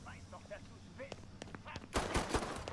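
Rapid gunfire bursts in the video game Mafia III, crackling through a dense game soundscape with a loud volley near the end, heard under German voices talking.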